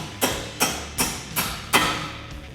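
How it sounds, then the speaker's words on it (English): A hammer tapping parts out of a Mustang spindle, five evenly spaced sharp metallic strikes about 0.4 seconds apart, close and distinct, no voices. "we're gonna take a hammer and just tap them out of there"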